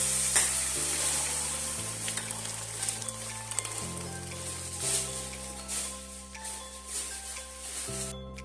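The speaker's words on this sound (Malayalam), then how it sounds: "എന്നിട്ട് എല്ലാം കൂടി ഒന്ന് വഴറ്റിയെടുക്കുന്നുണ്ട്." Spices sizzle steadily in a hot pan while being stirred, a constant soft crackle with a low hum behind it and occasional scraping, at close range with no talk.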